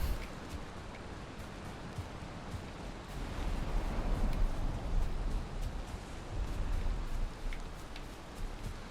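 Steady rain patters without a break in the video game Valheim, a dense hiss of drops with small scattered ticks. No voices are heard.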